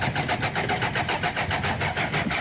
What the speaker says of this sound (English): Damso and Hodgson continued to try and coax that car back into life